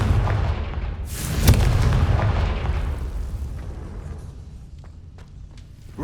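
A Confringo fire spell in Hogwarts Legacy bursts out with a sharp booming blast, followed by a rushing rumble that fades away, with a few faint snaps afterward.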